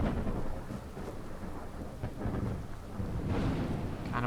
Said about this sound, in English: Kinda wish this thunderstorm would die down.